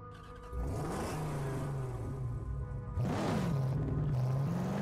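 Car engine in the Mad Max video game revs and whines through two rising, swooping surges, a steady drone holding between them, moderately loud with no talk.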